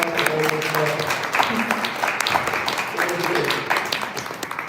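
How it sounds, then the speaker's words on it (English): Audience applause at a 1 Million Cups Detroit Metro pitch event, a steady wash of clapping that stays fairly even throughout, with voices talking over it. "Give her a round of applause."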